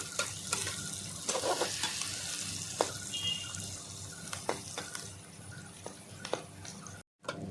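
Chopped onion, green chillies and garlic fry together in a pan, a close continuous sizzle with scattered spatula taps and scrapes, cutting out briefly near the end.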